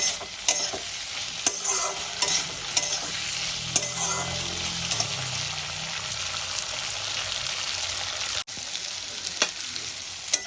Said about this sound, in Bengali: আলুগুলো আমার মোটামুটি এভাবেই ভালো করে ভাজতে থাকবে।